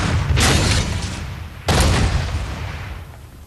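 Two heavy booming blasts of artillery fire in a World War II Blitzkrieg setting, each a loud, broad roar that swells and fades slowly, about a second apart, with no voices.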